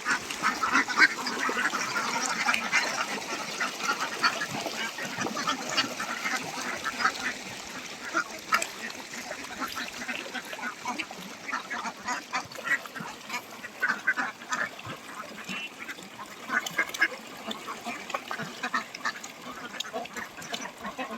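Some eleven hundred domestic ducks on a Bangladeshi village duck farm: a dense, continuous chorus of overlapping quacks, loud and unbroken for the whole stretch, with no talking.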